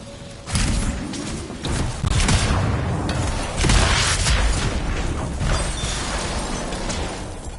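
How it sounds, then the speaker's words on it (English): Canisters exploding in the video game Anthem, a series of booming thuds and bursts with mechanical rumble, loud and close, rolling on for several seconds. "It'll be a contained explosion"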